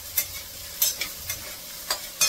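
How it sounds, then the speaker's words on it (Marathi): Soaked sabudana being stir-fried in a pan with peanuts and green chillies for khichdi, a soft sizzle broken by several sharp scraping strokes of a spoon at irregular intervals, close up and with no speech. "आता छान असं चांगला परतून घेते"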